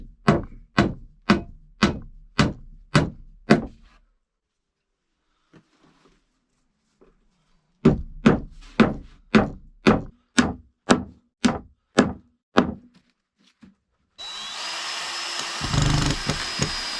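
Nails driven into thick wooden boards by hand while building a riverside dugout shelter: a run of about eight loud, evenly spaced hammer blows, a pause, then another steady series, ending in a burst of broadband noise.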